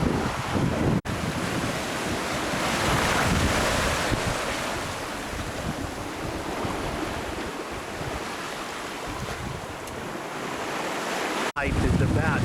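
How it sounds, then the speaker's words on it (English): Atlantic swells of 8 to 10 feet rush steadily past a sailboat running west under mainsail alone, with loud, constant wind buffeting the microphone and no pauses. "So these are good 8 to 10 foot seas here."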